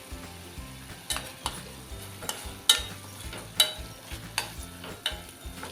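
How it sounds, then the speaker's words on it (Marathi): Masala spices sautéing in oil for okra bhaji give a steady low sizzle, broken by a series of sharp, regularly spaced spatula scrapes and taps against the pan. "एखाद दोन मिनटं व्यवस्थित आपण परतवून घ्यायचं आहे"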